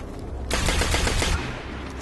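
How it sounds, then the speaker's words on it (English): Rapid automatic rifle fire in the video game Destiny, a loud burst of about a second of fast repeated shots followed by a short tail. "This is the new rifle that I just bought."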